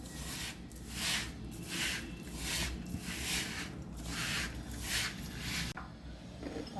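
Sabudana flour dough for thalipeeth is mixed and kneaded by hand in slow, rhythmic rubbing and squishing strokes that come close up and steady, with no talk.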